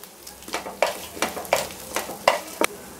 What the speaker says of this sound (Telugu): కాసేపు ఫ్రై చేసేసుకోవాలి